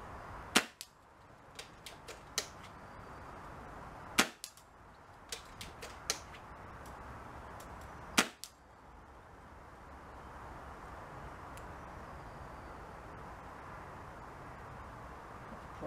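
Hatsan Galatian air rifle shots fired during a chronograph test, with three loud, sharp cracks spaced several seconds apart and a few fainter clicks between them, over quiet background hiss.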